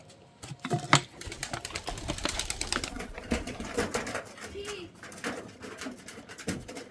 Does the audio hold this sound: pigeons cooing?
yes